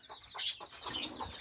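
Desi hens with many chicks near a newly built low-cost cage, clucking in quick soft repeated calls with brief high peeps, faint and moderately close with no voices.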